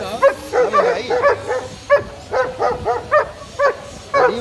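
A dog barks repeatedly in short, regular bursts at close range, with a few yippy, whining edges between barks.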